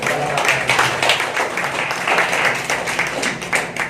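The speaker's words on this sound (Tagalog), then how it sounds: "Palakpak." Applause from a church congregation during a sermon, steady dense clapping that fills the whole stretch at fairly close range with no voice over it.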